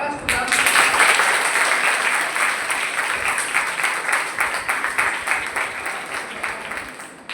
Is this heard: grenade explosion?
no